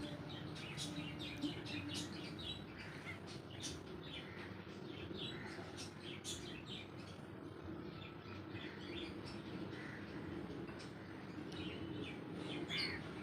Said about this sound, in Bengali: সকালবেলা ডাকছিল যে কোকো পাখিটা